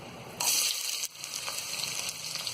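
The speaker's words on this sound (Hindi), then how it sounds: "और प्याज को हम यहाँ हल्का गुलाबी होने तक फ्राई कर लेंगे" Chopped onion dropped into hot oil with whole spices—cloves, green cardamom and black pepper—for vegetable pulao, bursting into a loud, steady sizzle after a brief quieter start, with a small clatter midway.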